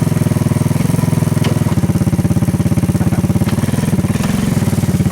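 Engine of an old Honda three-wheeler running loud and close, a steady rapid low thrumming beat that holds through the whole stretch as the rider pulls away in first gear.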